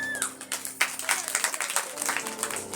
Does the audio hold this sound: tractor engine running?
no